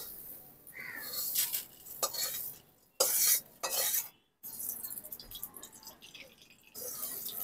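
A utensil stirs and scrapes Gobindobhog rice being lightly fried in ghee in a pan, giving irregular scraping strokes over a soft sizzle with a few brief pauses.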